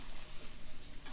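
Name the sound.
stirring mutton with gourd and potatoes in pan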